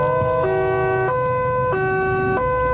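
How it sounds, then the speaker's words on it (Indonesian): A loud, close two-tone ambulance siren alternates between high and low pitches in a steady rhythm over a low engine hum. "Ini suara untuk membawa pasien?"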